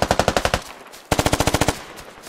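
Machine gun fire in the video game Squad Ops, two loud, close bursts of rapid evenly spaced shots separated by a brief pause.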